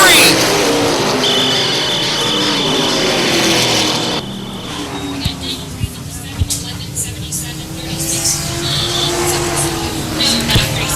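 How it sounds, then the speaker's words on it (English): Race cars roaring around a racetrack, engines droning loudly with passing swells and a sustained whine, heard beneath a commentator's continuous talk. "he has hit the go button, has now pulled away from the second place car of Joe Witchell"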